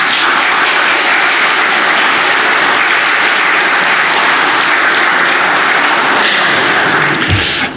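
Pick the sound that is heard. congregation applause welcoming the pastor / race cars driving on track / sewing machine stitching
congregation applause welcoming the pastor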